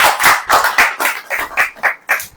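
About ten claps from an audience at a sermon, loud and close, in an uneven quick rhythm that slows slightly toward the end, with no talk over them.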